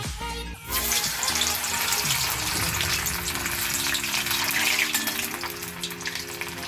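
Potato fries go one by one into hot oil for KFC-style french fries, and a loud, steady hiss and crackle of frying starts almost at once and carries on throughout.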